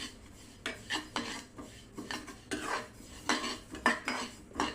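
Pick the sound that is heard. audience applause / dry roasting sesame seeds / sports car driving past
dry roasting sesame seeds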